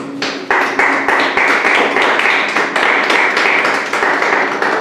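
A church congregation applauds during a sermon, a loud dense stretch of clapping with sharp individual claps standing out, steady for the whole span.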